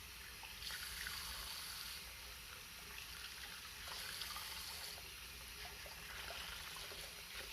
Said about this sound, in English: I'm going to the sink and I'm going to use warm water or hot water to wash the filter basically